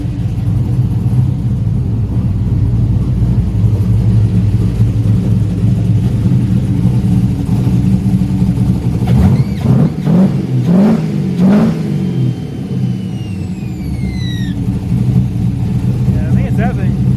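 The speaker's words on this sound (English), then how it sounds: "When I first got this motor running in the car" A 1972 Buick Skylark engine idles with a steady rumble, then revs up in a few sharp bursts before settling again, with a person talking over parts of it.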